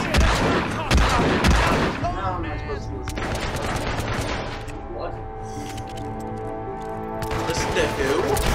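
Gunfire in the Hitman video game comes as dense bursts of shots, loud and mixed with game sounds and excited talking.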